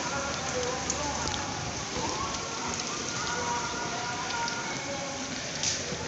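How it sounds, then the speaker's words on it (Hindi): Heavy rain in Faisalabad pours down in a dense, steady hiss, close and loud throughout, with faint scattered splashes. "कितनी तेजू तेजू बारिश हो रही है।"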